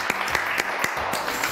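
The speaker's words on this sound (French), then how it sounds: "je vous demande d'applaudir très très fort" A studio audience on the French show JJDA claps for a singer's first album, a brief burst of dense applause with a few sharper individual claps rising above it.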